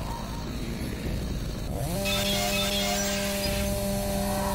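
A chainsaw revs in the game Doom 3, its buzzing engine note rising sharply, then holding a loud steady whine that runs on alone.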